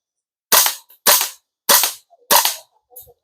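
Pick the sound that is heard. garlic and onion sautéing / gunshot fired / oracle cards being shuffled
gunshot fired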